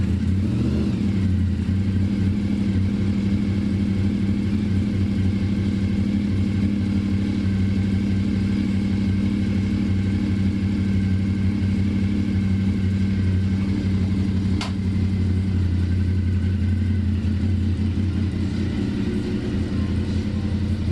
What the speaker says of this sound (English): Let's fire up the bike and warm up the oil before the change.